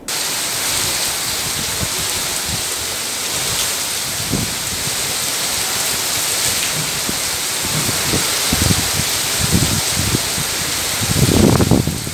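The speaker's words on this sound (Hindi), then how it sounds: "जोरों शोरों से बारिश शुरू हो गई" Heavy rain pours steadily in Junagadh, Gujarat, with a dense, constant hiss throughout and scattered low thumps from drops or runoff, swelling slightly louder near the end.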